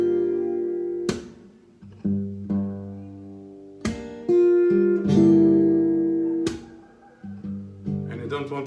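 Percussive slaps hit acoustic guitar strings left open, each sharp strike followed by ringing chords that decay, repeated about six times in an uneven rhythm, close and clear with no talking over them.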